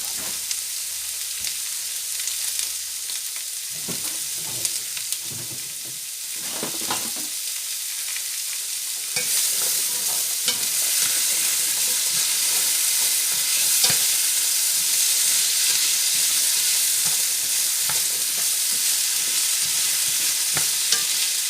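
Vegetables and a bouquet garni for a turkey osso buco frying in a pot, with a scattered crackle and clinks of stirring at first, then a loud, dense, steady sizzle with ongoing stirring scrapes.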